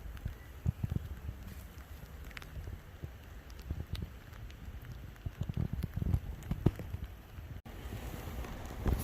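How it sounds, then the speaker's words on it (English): Soft, steady rain patters around castle ruins, with scattered drops tapping on nearby surfaces; fairly faint and continuous, no voices. "It's the real trouble of filming in the rain,"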